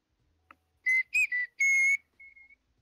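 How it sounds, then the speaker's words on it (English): A person whistles a short run of clear, shrill notes, several quick bursts followed by a longer held tone and a softer final note, close and alone. "I was gonna whistle, but I realized that my whistles kill."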